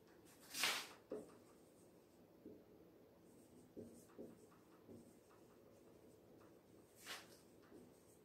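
Pen writing notes on paper during a physics lesson on Gauss's theorem: soft scratchy strokes and small taps at an irregular pace, faint and close, with a couple of sharper scrapes standing out and no talk.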